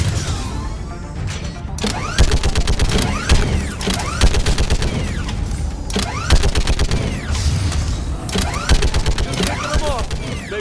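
Rapid bursts of gunfire from a weapon in the video game Mass Effect 3, loud repeated volleys of sharp shots with mechanical clanks between them, continuing throughout.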